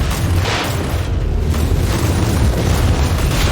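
A grenade blast in Warhammer 40,000: Inquisitor rumbles with a heavy, sustained low boom and crackling debris, loud and close, lasting several seconds without speech.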